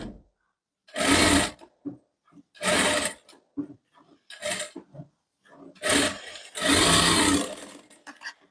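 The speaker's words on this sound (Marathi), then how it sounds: "डबल शिलाई देऊन घ्यायची आपल्याला।" A sewing machine runs a double line of stitching on a boatneck blouse, with loud, close whirring bursts of about half a second to a second, separated by short pauses and quieter taps as the fabric is adjusted.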